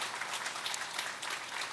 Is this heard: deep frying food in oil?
no